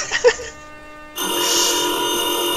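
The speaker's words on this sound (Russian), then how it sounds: "Кого там телефон звонит?" A telephone bell rings loudly and continuously in the Garry's Mod Metrostroi subway game, starting after a brief quieter stretch with a few faint blips.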